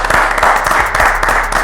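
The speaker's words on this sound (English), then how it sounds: "let's get a small clap up in here tonight" A small audience claps at a Saturday night art talk show event, a brief burst of close, steady applause with no talk over it.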